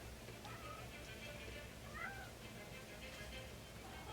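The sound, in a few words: cat meowing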